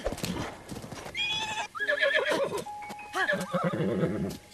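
A horse in the video game Breath of the Wild snorts and whinnies amid clip-clopping hooves and game sounds, close and moderately loud with no talk.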